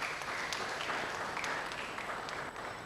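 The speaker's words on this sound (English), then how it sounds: "Can we clap for ourselves?" A conference audience at a discussion on cooking fuels and climate change claps for itself, giving a steady wash of many hands applauding at moderate distance, fairly faint, fading slightly toward the end.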